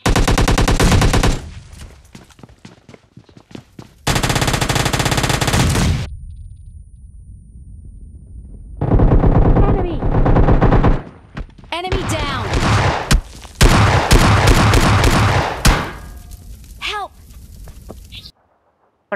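Gunfire from the mobile battle royale game PUBG Mobile Lite during a squad fight: loud, dense bursts of automatic fire separated by short quiet gaps, with a few sharper single shots and crackling effects near the end.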